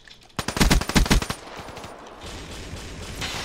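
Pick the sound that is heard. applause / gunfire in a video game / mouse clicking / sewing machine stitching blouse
gunfire in a video game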